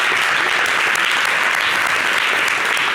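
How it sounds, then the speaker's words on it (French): A TV studio audience applauds, a dense, loud, continuous burst of clapping filling the whole stretch with no voices on top. "Bravo, merci d'applaudir."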